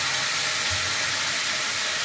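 Spice masala sizzles steadily in a hot pan after a splash of water is added, cooked with potatoes for a flour-chhana curry; a continuous close hiss with no voices.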